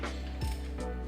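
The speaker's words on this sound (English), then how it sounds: "Just a 27mm socket on the crank pulley." A ratchet with a 27mm socket turns the crank pulley of a drift car engine in two or three close, crisp clicking pulls with brief pauses between them.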